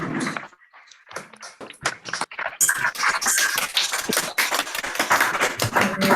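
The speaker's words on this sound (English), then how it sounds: "I would actually request everybody to just unmute themselves and give the team a round of applause" Scattered claps building into sustained applause from many people unmuting on a company town hall video call, starting with sporadic taps and swelling into dense, continuous clapping that stays fairly loud.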